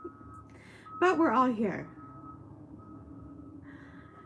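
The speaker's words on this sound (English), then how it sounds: "So that's what all the trucks and the beeping are in front." Trucks parked out front give faint, distant reversing beeps, a couple of short bursts heard through the walls, while someone speaks briefly indoors over a steady low hum.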